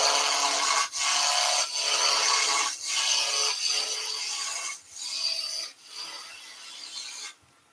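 A wooden blank being roughed down on a lathe during woodturning, a loud, steady rasping cut broken by several short pauses as the tool lifts off, close and alone.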